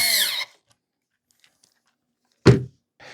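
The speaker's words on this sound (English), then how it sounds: "it's pretty strong for a small screwdriver like this" A Parkside Rapidfire 2.2 mini 4V USB-C cordless screwdriver drives screws into pre-drilled furniture holes: a short motor whir at the start, a long silence, then a brief thunk and a faint tail.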